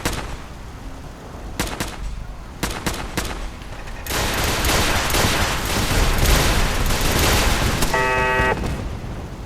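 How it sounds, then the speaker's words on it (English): Rocket turrets in Fallout 4 fire at a settlement ambush, a string of sharp blasts followed by a dense, sustained roar of rapid explosions and gunfire, loud and close. "Those rocket turrets, man, my god"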